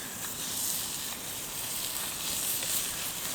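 Meat sizzles in a pan over a Trangia Mini spirit stove outdoors, a steady, soft hiss and crackle that runs unbroken and fairly quiet throughout.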